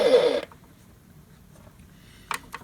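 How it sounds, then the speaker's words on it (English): A burst of bright, hissing electronic photon torpedo sound from a Star Trek The Next Generation U.S.S. Enterprise toy starship opens the clip, then quiet, followed by two short sharp blips near the end. "Photon torpedoes."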